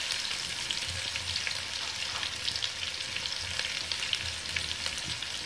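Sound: sautéing sliced onions in a pan

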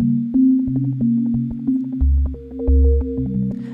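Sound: synth arpeggio with Max for Live LFO modulating rate fast

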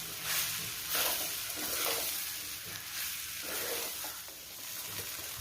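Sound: stirring ash gourd pieces with vegetables in pan

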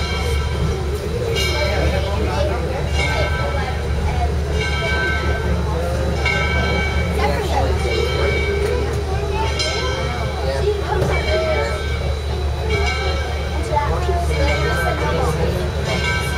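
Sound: locomotives at a railway turntable

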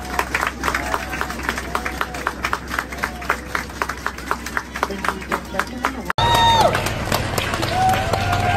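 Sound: applause for Taiwan's Olympic team athletes

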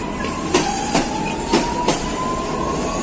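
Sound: Supervia Série 4000 train departing the station

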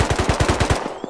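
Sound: gunfire in a video game

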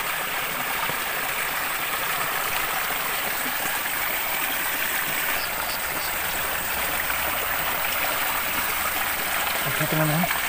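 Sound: water flowing from a natural spring

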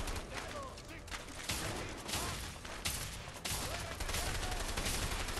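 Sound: gunfire from the video game A Way Out

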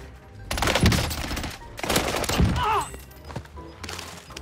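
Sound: gunfire from a weapon in the video game Warzone

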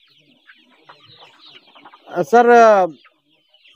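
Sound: chickens clucking under goat shed

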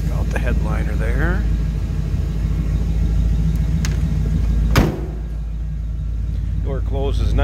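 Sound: 1952 Chevrolet 3100 pickup door closing

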